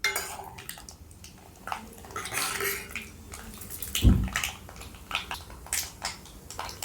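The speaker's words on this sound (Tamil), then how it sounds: "கடுகு பொரியட்டும்." Mustard seeds and fenugreek crackle in hot oil as a village-style eel fish curry base is made, with a continuous close sizzle broken by irregular small pops and one louder thump from the pan.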